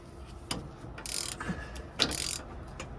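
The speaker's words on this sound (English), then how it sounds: "Friggin' stupid swivel head ratchet wouldn't want to fall off this bolt all the time." A swivel head ratchet clicks in short bursts on a bolt while working on a 1997-2003 Ford F-150 sway bar link, with a few quiet, close ratcheting runs separated by brief pauses.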